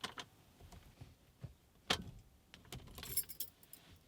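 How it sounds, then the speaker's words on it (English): Ignition key in a Nissan Primera P12 being worked to release the steering lock, heard as close clicks, jangles of the key bunch and a sharp metallic snap near the middle, faint and quiet overall. "twist the ignition key gently to the right"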